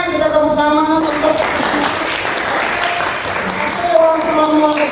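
Classroom applause as a lesson ends, students clapping together in a room while voices chime and talk over the start and end, the clapping filling the middle at close range.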